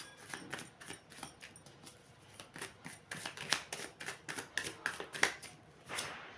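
A deck of cards is shuffled several times at close range, quiet riffling bursts and sharp flicking snaps in quick irregular succession.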